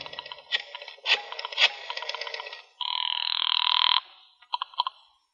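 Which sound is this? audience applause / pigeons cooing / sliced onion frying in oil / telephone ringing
telephone ringing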